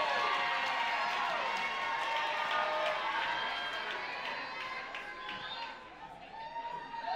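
A crowd at a Jack and Jill dance competition finals cheers and applauds, a broad, sustained roar of voices and clapping that swells and then eases slightly, with chatter mixed in.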